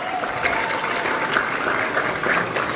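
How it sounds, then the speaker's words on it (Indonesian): Audience applause at a political party speech in Central Java, dense continuous clapping from a large crowd, loud and steady throughout. "Tepuk tangan untuk beliau."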